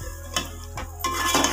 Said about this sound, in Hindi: इसे हम मिक्स करेंगे।